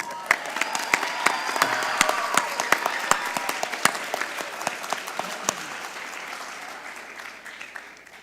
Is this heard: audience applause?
yes